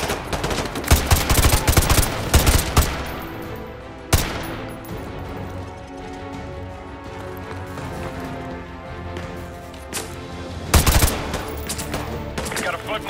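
Rapid gunfire in the Call of Duty Modern Warfare 2 Remastered campaign, dense bursts of shots with sharp loud cracks and a steady rumble of battle noise between them.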